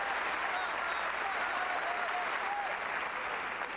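Steady, dense applause from a large arena crowd after a men's rings routine at the 1988 NCAA gymnastics championships, sustained and even throughout with a faint commentator-like voice underneath.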